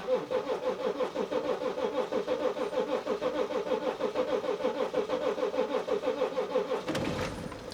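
A BMW X5 engine cranking with a fast rhythmic starter churn for several seconds before catching near the end, heard close and fairly loud.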